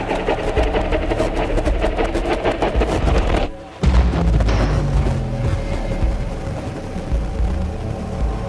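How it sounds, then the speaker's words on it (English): Dense, rumbling booms and crackling blasts pile up continuously in the game Octahedron, with a short drop-out before the explosive roar resumes loudly. "Explosions are happening."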